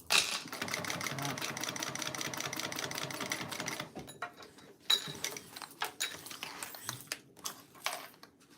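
A sewing machine stitching a bag runs in a steady rapid whir for about four seconds, then stops, followed by scattered clicks and handling noises.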